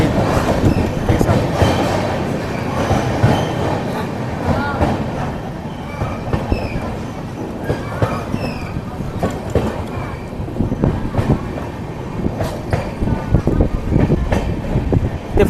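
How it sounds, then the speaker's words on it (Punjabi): A passenger train pulls away from Ahmedgarh railway station in Punjab bound for Ludhiana, a loud, continuous rumble with rhythmic wheel clatter and scattered clanks heard from on board. "ਆਪਣੀ ਟ੍ਰੇਨ ਅਹਿਮਦਗੜ੍ਹ ਤੋਂ ਡਿਸਪੈਚ ਹੋ ਰਹੀ ਹੈ ਲੁਧਿਆਣੇ ਲਈ"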